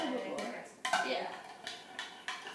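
Salt water is stirred in a container, giving a quiet series of sharp clinks and scrapes as a utensil knocks the sides, with irregular taps spaced through a couple of seconds.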